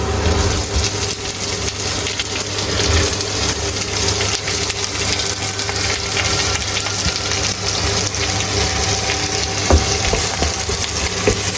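Chopped shallots and onions frying in hot oil, a loud, steady sizzle and hiss that runs unbroken for about eleven seconds with no talking.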